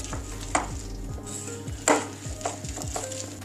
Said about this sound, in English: then whisk and mix everything very well